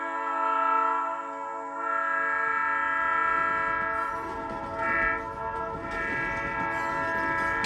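A train horn sounding a long, loud, sustained multi-tone blast that wavers in strength, with rumbling rail noise growing beneath it toward the end.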